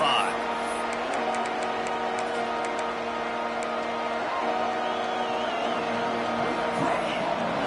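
A stadium crowd at a Nebraska Cornhuskers football game keeps up a steady, dense roar with scattered whistles, while a commentator talks over it throughout.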